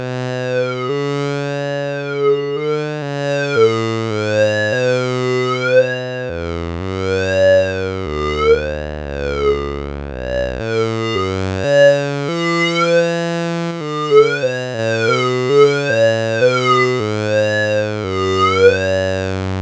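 Squelchy synthesizer tones from a Roland System 100 Model 101 paired with a Moog MF-108M filter on negative feedback warble and swoop in pitch, with a gnarly, almost vocal quality, sustained and continuous without pauses.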